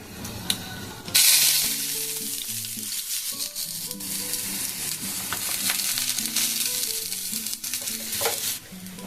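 Ground mung dal paste frying and being stirred in hot oil, a steady close sizzle with scraping stirs throughout, a brief sharp burst near the start.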